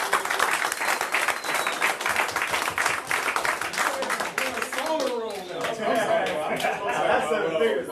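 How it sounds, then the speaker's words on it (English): A room full of people claps steadily, and the applause swells and sustains with some cheering and chatter mixed in. "Give yourself a 7-figure round of applause"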